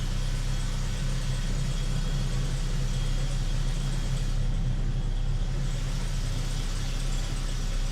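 An old truck engine that had sat unused for six years runs at a steady low rumble, close and continuous throughout with no voices.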